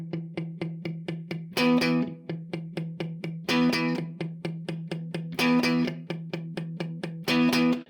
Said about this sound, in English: Palm muting is important for lots of different styles of guitar playing.